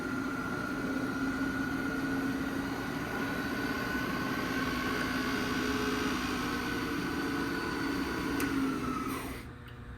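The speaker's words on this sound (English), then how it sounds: "Turn our spindle on going forward." Southwestern TRAK K3SX milling machine spindle running forward, a steady, quiet mechanical hum with a smooth constant whine, close by and alone, cutting off near the end.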